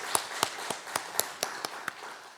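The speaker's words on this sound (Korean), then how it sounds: "우리 하나님께 영광의 박수 올려드릴까요?" A church congregation claps during a Korean Sunday evening worship service, with a steady run of about eight sharp, evenly spaced claps at a fairly quiet level.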